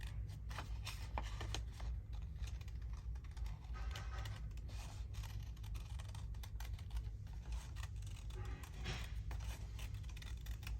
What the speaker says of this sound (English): notice I'm pulling the paper around more so than moving the scissors